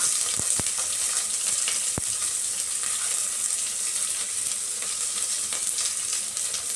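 Onions frying in a pan for sambar give a steady, close sizzle throughout, with a few sharp clicks of stirring and no talk.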